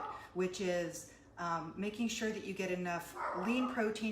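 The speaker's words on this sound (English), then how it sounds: "You can probably hear my little doggy kind of going crazy in the background" A small dog barks and yips excitedly in the background of a home kitchen, its sharp bursts scattered under a woman's steady, close talk throughout.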